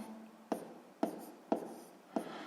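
Numbers are written by hand on paper for a sixth-grade math exercise, heard as four soft, evenly spaced pen taps and scratches, close and quiet.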